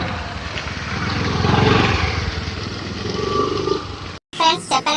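A friend's motorcycle engine runs at a steady, rumbling idle with a faint rise in the middle and voices in the background, then cuts off abruptly before a brief, different noise.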